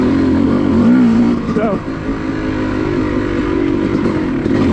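2005 Yamaha YZ250 two-stroke motocross bike set up for woods riding, its engine droning loud and close with a brief rising rev and pitch wobble, under people talking.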